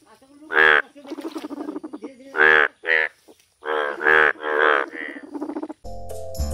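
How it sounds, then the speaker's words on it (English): Several loud, close croaks from a frog come one after another in short harmonic bursts with brief gaps. A short musical tone follows at the end. "F for frog"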